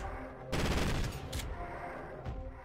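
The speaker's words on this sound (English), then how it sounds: "Now this is the Omni gun." Rapid bursts of gunfire from the Omni gun, a weapon in the Hearts of Demons mod for Doom, crackling loud and dense in a sustained volley with short flurries after it.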